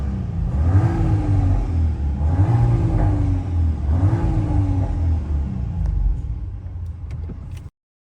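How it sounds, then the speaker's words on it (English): A VW Golf 8 R with an Akrapovic exhaust revs in a parking lot, with three rising engine sweeps over a loud, deep idle rumble, close by. It ends with a few faint clicks and then cuts out abruptly. "let's just give it one good rev."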